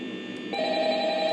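In-game telephone ringing in the Five Nights at Freddy's video game on the first night, an electronic ring tone that shifts to a sustained pitched tone midway, steady and moderately loud with no talking.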